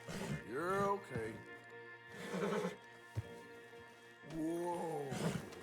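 A stallion in Red Dead Redemption 2 whinnies three times in drawn-out neighs separated by pauses, close and clear, with a soft thud between.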